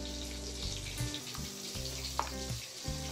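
Onion and chili frying lightly in a pan, with a steady close sizzle and crackle running throughout and a few soft clinks over the top.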